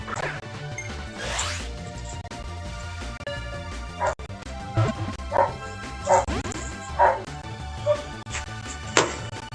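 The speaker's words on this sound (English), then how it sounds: "Sorry about all the dogs barking." Several backyard dogs bark repeatedly, with sharp yips and woofs spaced every second or so, fairly near and loud over a steady background hum, with a faint voice at times.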